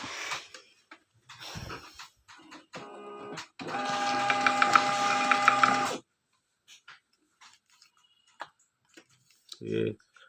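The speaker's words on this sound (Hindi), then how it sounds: "और इसको प्रिंट कमांड देते हैं।" A DC 421/431 label printer printing with a thermal transfer ribbon, a short run of clicks and then a couple of seconds of steady whirring feed, followed by scattered small clicks and a brief voice.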